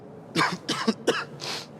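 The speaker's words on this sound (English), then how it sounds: "I didn't hear you, you coughed." A person coughs about four times in quick succession, each a short harsh burst close to the microphone, the last one softer and more drawn out.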